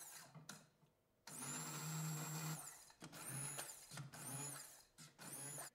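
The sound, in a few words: immersion blender pureeing fava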